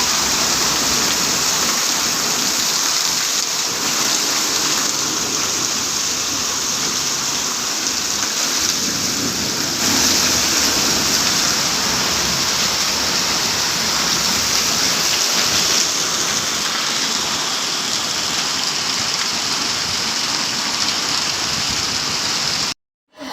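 Heavy rain pours down steadily in Baramati, a dense, loud, continuous downpour drumming on surfaces close by, with no voices, until it cuts off abruptly at the very end.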